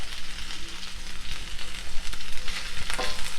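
Green chili sizzling in hot oil in a pan while cooking baby corn chilli, a continuous crackling fry with occasional stirring scrapes, close and steady.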